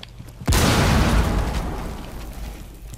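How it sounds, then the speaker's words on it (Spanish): A sudden loud explosion from a cluster charge in Rainbow Six bursts after a brief quiet moment, then a long rumbling roar slowly fades out. "Ojo con la explosión."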